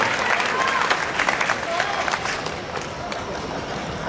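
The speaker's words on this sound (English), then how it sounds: "Round of applause, come on, for the Nauru weapon." Crowd applause with clapping and scattered cheers fills a powerlifting arena after a deadlift world record attempt at the 2014 Pacific Challenge, a dense steady wash of hands from start to finish with a voice over it.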